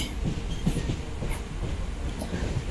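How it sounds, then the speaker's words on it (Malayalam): Steady rumble of a train moving at fairly high speed along the tracks in Kerala, with faint rhythmic clicks from the wheels and no voices. "ട്രെയിൻ ഇതങ്ങനെ പോയോണ്ടിരിക്കുക അത്യാവശ്യം നല്ല സ്പീഡിലാണ് കേട്ടോ"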